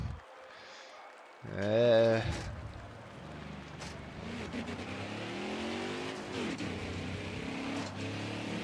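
A race car engine in a racing video game revs up with a rising whine, then settles into a steady drone with shifting pitch, loud and close, with a voice talking briefly over it.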